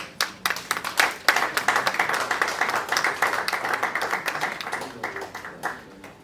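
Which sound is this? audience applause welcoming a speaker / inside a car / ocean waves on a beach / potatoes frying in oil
audience applause welcoming a speaker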